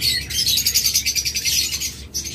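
A pair of violet opaline pet birds chirps close to the microphone in a rapid, steady series of bright tweets that pause briefly near the end.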